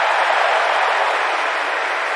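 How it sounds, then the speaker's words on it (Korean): An AI-generated crowd cheering in a baseball stadium, a dense steady wash of many voices roaring and shouting together without pause, loud and even throughout. "자, 여기 People cheering in the baseball stadium."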